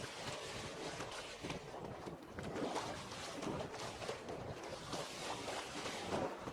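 A boat crossing a foggy lake in The Witcher 3 gives off a continuous wash of water and wind, broad and hissing, with soft surges of waves rising and falling at a quiet, even level.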